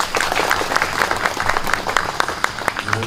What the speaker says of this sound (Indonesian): Tepuk tangan untuk Kang Deddy Mulyadi